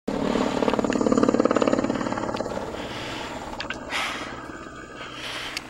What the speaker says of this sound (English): Rescue chopper.